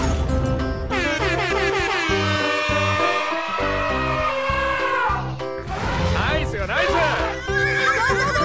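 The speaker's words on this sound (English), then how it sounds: "Horse." Loud, shrill horse whinnies ring out repeatedly over a busy, noisy background, with a sharp high squeal partway through.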